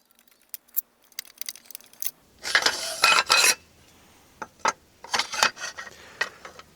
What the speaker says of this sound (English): So you need to undo these bolts here.